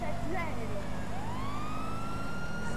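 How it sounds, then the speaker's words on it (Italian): Police car siren in Grand Theft Auto V, a wailing tone sweeping up and holding steady over dense in-game traffic and engine rumble, sounding moderately distant with no clear voices. "quando accendo le sirene, quando accendo le sirene"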